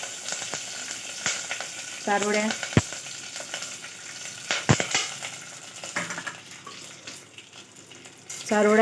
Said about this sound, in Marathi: आता तुम्ही सर्व मिश्रण आपलं ते तुपात छान परतवलेले आहे.